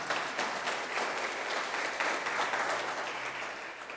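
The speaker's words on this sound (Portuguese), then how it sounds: "Pode aplaudir bem forte mesmo." A church congregation claps hard and loudly for fellow members who recited scripture, a dense, continuous burst of applause that stays strong before easing slightly toward the end.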